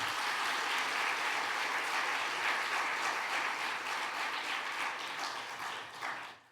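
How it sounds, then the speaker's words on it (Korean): Warm, sustained applause from a church congregation at a Sunday afternoon service, honouring eight married couples who finished a seven-week marriage course; dense and steady, tapering off near the end. "우리 격려의 마음을 담아 힘찬 박수 한번 보내드리도록 하겠습니다"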